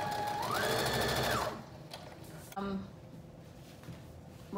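A sewing machine stitches shoulder seams at a 5/8 inch allowance in one brief, fast run at the start. Faint handling clicks follow in a quiet room.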